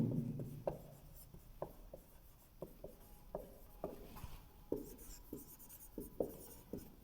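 Chalk or marker writing on a board during a physics lecture on reflection of light, a steady series of short scratchy strokes and taps in an irregular rhythm, fairly close and quiet, with no talking.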